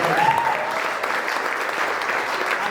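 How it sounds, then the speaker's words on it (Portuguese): A church congregation claps together during an evening worship service, a dense wash of applause that holds steady and fades slightly toward the end. "pode aplaudir ao Senhor nessa noite."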